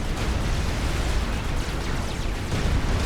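Dense, continuous rumbling barrage of explosions and launches from tactical missile launchers on carriers in a Supreme Commander: Forged Alliance 4v4 ladder battle, loud and unbroken throughout.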